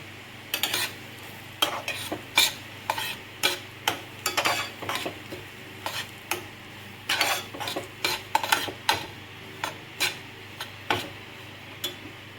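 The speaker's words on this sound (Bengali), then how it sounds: "ঘিটা গলে গেলে আমি সুজিটা দিয়ে দিচ্ছি" Semolina being stirred in melted ghee with a spoon scraping a metal pan, giving steady repeated scrapes and clinks in an irregular rhythm, close and fairly clear over a faint low hum.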